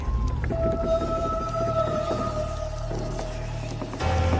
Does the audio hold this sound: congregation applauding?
no